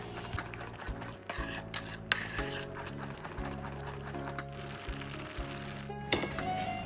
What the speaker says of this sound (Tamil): இப்போ இது எல்லாத்தையும் நல்லா மிக்ஸ் பண்ணி விட்டுக்கிறேன்.